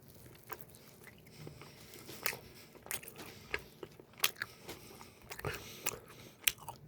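Close-up chewing of a sweet pumpkin rice cake, with soft sticky bites and crunchy, squishy mouth sounds in an irregular rhythm, quiet and intimate with no talking.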